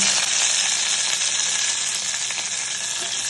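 Dried red chillies, coarsely crushed onions and curry leaves sizzle steadily in hot oil, a loud, close, continuous frying hiss with no voices.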